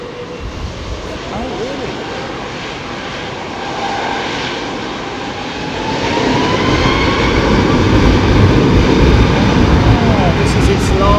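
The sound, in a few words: airliner taking off at London Heathrow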